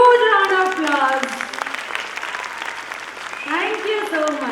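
Audience applause at a preschool annual day event, following a children's stage performance: a steady, dense wash of clapping that holds for several seconds, with voices talking over it.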